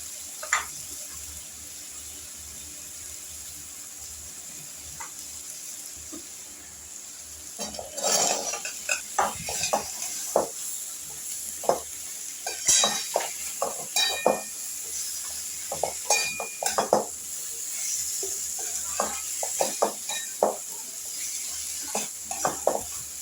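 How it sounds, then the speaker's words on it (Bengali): Vegetables tumble into a hot pan already sizzling with ginger paste for pui shaker chhanchhra, giving irregular clattering stirs and scrapes over a steady frying hiss, close and moderately loud, with no talking. "এবার আমি সবজিগুলো ছেড়ে দিচ্ছি।"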